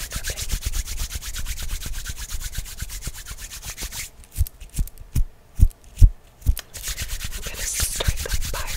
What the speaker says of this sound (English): we're gonna do some hand rubbing